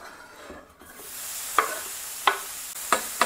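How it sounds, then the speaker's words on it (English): Bacon strips sizzle on a flattop griddle heated to about 380 degrees, a steady hiss with four sharp, bright pops spaced roughly a second apart, close and without voices. "Oh, I love that sizzle."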